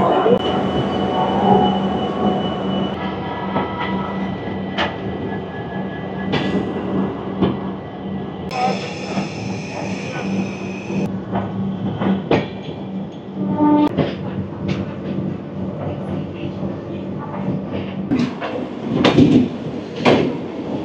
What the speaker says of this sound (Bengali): নির্ধারিত সময় থেকে 15 মিনিট ডিলেটে আমাদের এই SMVB দুরন্ত ছেড়ে দিল হাওড়া স্টেশন থেকে